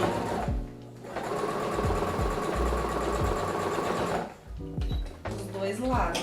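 Home sewing machine running a securing seam on fabric for children's items, a steady mechanical whir with brief pauses and restarts, close up, with someone talking over it.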